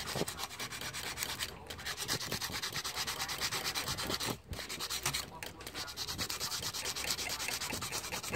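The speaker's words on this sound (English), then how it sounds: "all you need is a little bit of sandpaper to it." Sandpaper rubbed by hand over a part of a GY6 180cc scooter engine top end, a steady, close, continuous scratchy rasping with brief pauses as the stroke changes.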